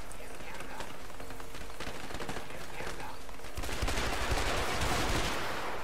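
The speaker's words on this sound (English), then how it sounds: "they got some guys that are shooting from way far" Distant gunfire in the video game A Way Out, scattered shots popping repeatedly through a dense game soundscape, growing into a heavier, noisier stretch of firing toward the end, with a voice talking over it.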